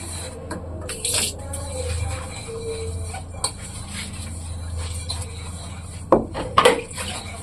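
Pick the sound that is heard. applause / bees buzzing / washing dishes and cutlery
washing dishes and cutlery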